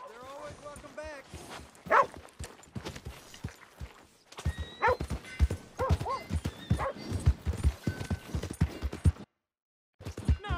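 Horse hoofbeats and whinnies from Red Dead Redemption 2 on PS5, with clip-clopping steps and a few neighs mixed with dog barks, under speech, close and moderately loud, then a brief silent gap.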